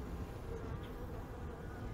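Honey bees in an opened Layens horizontal hive make a steady, dense, close buzzing drone that holds evenly throughout with no talking.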